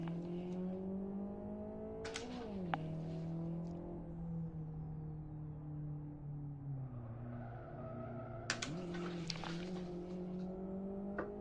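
A race car in the Live for Speed driving game revs and slides, the engine pitch rising and falling steadily while bursts of tire squeal break out around the middle and again near the end as the car goes sideways.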